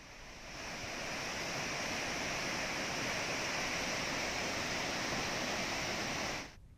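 Water released through 22 open gates of the Narayanpur dam into the Krishna river makes a broad, steady roar of rushing flow, loud and continuous with no voices.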